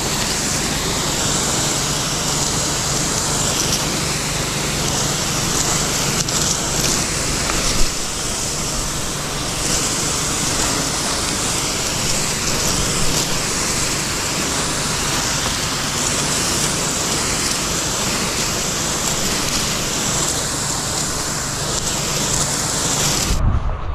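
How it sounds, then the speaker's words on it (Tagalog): Strong wind roars continuously, a dense, rushing wash of noise buffeting close by with no pauses. "lumalakas yung hangin ah"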